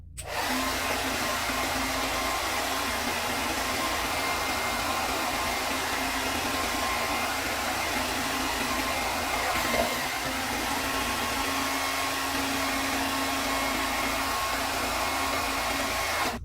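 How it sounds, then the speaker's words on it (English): A hair blow dryer on its cool setting, used to dry and straighten a beard, blows a steady, loud whooshing rush with a faint motor whine that runs continuously and evenly throughout. "with my blow dryer, I have a cool setting on there"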